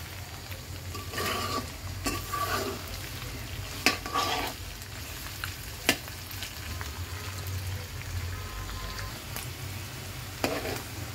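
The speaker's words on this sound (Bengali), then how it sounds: "ভাজি হচ্ছে" Tripe (bhuri) frying in a pan gives a steady, close sizzle throughout, broken by occasional sharp clinks and scrapes of stirring.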